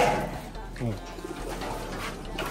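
Taiwan racing pigeons in a loft coo softly in repeated low, throaty phrases over a steady background hum, with some faint voice-like noise mixed in.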